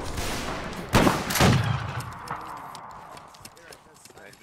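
Reenactment soldiers of the 32nd Regiment of Foot fire a musket volley outdoors: two loud cracking bursts close together near the start, then rumbling echo and scattered noise fading away, with voices in the background.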